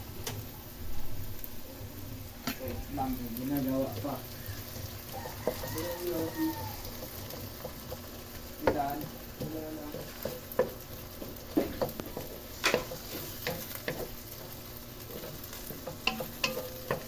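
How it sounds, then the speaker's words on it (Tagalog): Corned beef fries in a pan while it is stirred. A low, steady sizzle runs throughout, broken by repeated scraping and clinking of the spatula against the pan at an uneven pace. "ilalagay na natin ang ating corn beef"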